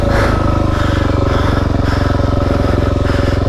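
Suzuki DRZ dirt bike engine running steadily on a trail ride, a loud, close, continuous throbbing drone with even pulsing and no speech.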